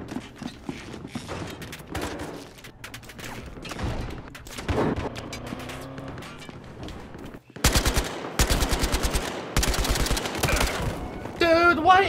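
Gunfire in Battlefield Hardline on Xbox One during a heist match comes as rapid automatic bursts, loud and close. Dense streams of shots come in clusters, with a pause near the middle and some speech mixed in.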